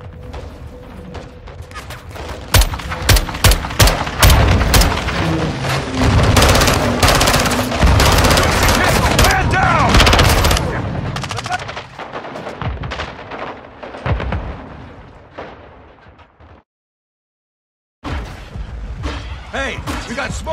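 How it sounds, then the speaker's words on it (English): Gunfire and grenade launches in the Call of Duty Modern Warfare II video game, with loud, dense bursts of automatic fire and heavy thumping blasts that thin out, drop to silence, then return, under shouted voices. "Incoming! Take cover! They're launching grenades!"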